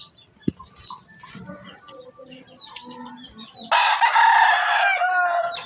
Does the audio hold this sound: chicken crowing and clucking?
yes